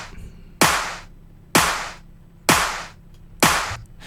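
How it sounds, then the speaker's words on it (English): Four single hand claps, each a sharp bright broadband crack with a short decaying tail, played alone at an even rhythm about one second apart as a sample for an equalization lesson. "I want you to listen to this clap"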